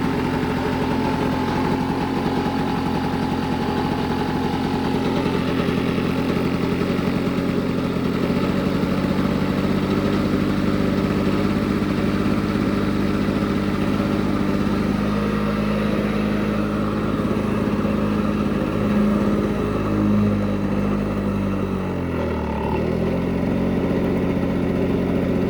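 A Lawn-Boy 680543 lawnmower engine running steadily at close range, a constant droning idle that shifts slightly in pitch toward the end as the speed changes.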